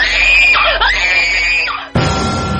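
A woman lets out a loud, sustained scream of terror in a horror story, her shrill voice wavering and rising for nearly two seconds before cutting off sharply into a burst of other noise.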